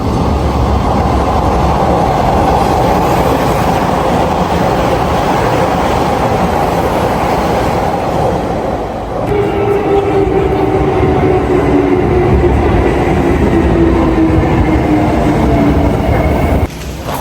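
A train pulls into a station in Japan, a loud continuous rumble of wheels and cars with a steady tone rising through the middle, rolling on for the whole stretch.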